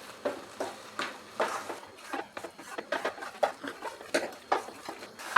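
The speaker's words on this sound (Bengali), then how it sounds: "মাঝারি আঁচে নেড়ে নেড়ে রান্নাটা করতে হবে।" Soft scraping and tapping of a spatula stirring a coconut and milk mixture in a wok over medium heat, a steady run of close, light strokes with no voices.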